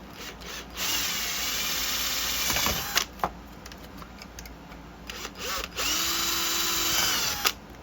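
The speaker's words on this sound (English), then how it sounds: "I'm gonna drill a hole, guys, right in here" A power drill whirs in two sustained bursts with brief pauses and clicks between, drilling a hole in a Shark vacuum's plastic casing, close up and moderately loud.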